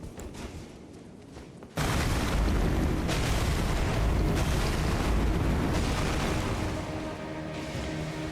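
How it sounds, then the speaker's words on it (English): A loud, sustained explosion in the video game Elden Ring: Shadow of the Erdtree bursts in after a quieter opening, then rumbles and crackles steadily without fading. "Again, the explosion is so much damage."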